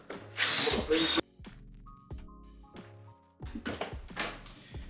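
Power drill driving screws through boards during Schluter Kerdi waterproofing work, a loud whirring burst followed by short quieter mechanical clicks and another drilling run near the end.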